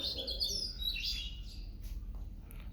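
Small birds chirp and tweet on a foggy winter morning, a cluster of bright, quick calls in the first second or so, then sparser faint notes over a low, quiet outdoor rumble.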